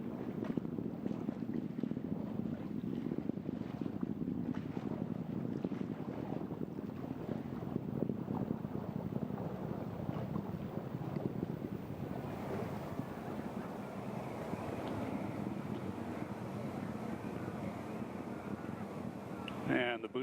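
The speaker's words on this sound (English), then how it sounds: "Booster engine performance continues to look very good." An Atlas V rocket booster engine roars during a launch from Kennedy Space Center, a steady, dense broadband rumble that holds for the whole stretch and thins slightly toward the end.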